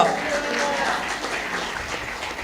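A church congregation claps loudly at a Sunday service in Warangal, producing a dense, steady wash of applause with a voice talking over it throughout.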